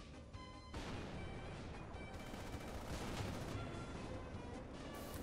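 Dense, continuous booming and crashing of tank gunfire in War Thunder, heavy overlapping blasts with no pauses, fairly quiet overall and without talk.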